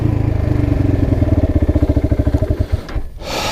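Kawasaki Brute Force 300 ATV engine revving high at low trail speed, a loud close rhythmic buzzing drone that pulses steadily, then drops away near the end.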